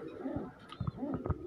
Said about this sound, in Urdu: اے دیکھو اے ٹیڈی کبوتر ہے